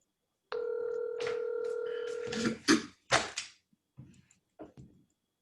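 Outgoing telephone ringback tone heard from a handset, one long steady tone lasting about two seconds, followed by a few short clicks and faint handling noises, with no talking.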